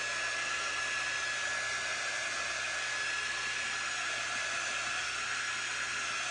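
A hair dryer blows steadily on a holiday craft piece, a loud, continuous broadband whoosh with a faint high whine running through it, alone with no talk.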